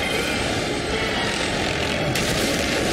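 A helicopter in the Spider-Man video game gives a loud, steady whirring engine and rotor roar that fills the whole stretch without pause, with a slight brightening near the end.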